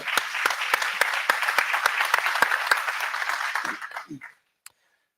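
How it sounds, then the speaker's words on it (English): Audience applause at a keynote session: steady, dense clapping from a large crowd with sharp individual claps standing out, fading away toward the end and closing with a single late clap. "I think we should give him a round of applause."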